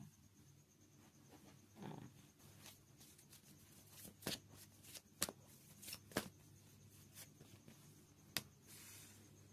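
A deck of tarot cards is shuffled in a quiet room, with soft riffling and a series of faint, sharp card snaps spaced irregularly.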